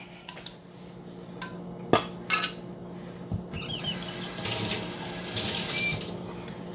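Sea moss gel being poured at a kitchen sink, heard as close splashing water and running-tap sounds with a few sharp clinks of dishes and utensils, growing steadier toward the end.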